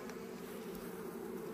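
Honeybees swarm over the comb of an opened hive during a spring inspection, giving a steady, dense buzzing drone that holds evenly throughout, close and moderately loud, with no talk.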